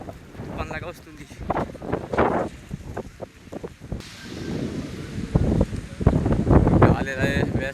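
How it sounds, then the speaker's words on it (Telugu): Strong wind gusting over a microphone during heavy rain near Devarapalli, a steady roar with rustling, while people talk intermittently over it. "గాలి ఎలా వేస్తుంది చూడండి."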